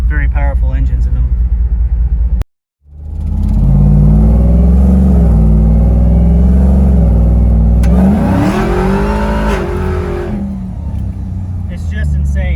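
A Wagoneer's swapped-in LT4 V8 engine roars and revs hard, pitch climbing as it accelerates, with a brief cut before the throttle opens again, close and powerful.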